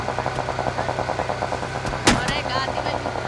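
Rapid bursts of automatic gunfire in the battle-royale game PUBG Mobile, steady repeated shots throughout with a sharp louder crack near the middle, mixed with game effects.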